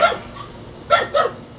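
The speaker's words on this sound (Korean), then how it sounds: "어째 개가 짖었었노." A dog in the countryside of Yeongam, South Korea, gives three short, sharp barks: one at the start, then two close together after a brief pause, fairly loud against a quiet background.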